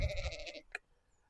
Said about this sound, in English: There's some sheep right over by our house